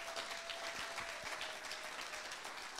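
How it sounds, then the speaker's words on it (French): A church congregation applauding to encourage a preacher, dense sustained clapping from many hands that fills the room evenly and continues throughout without a break. "Est-ce qu'on peut acclamer pour lui, pour l'encourager quand même?"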